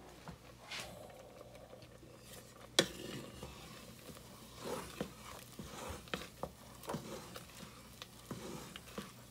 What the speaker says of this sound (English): Should I stir the pasta?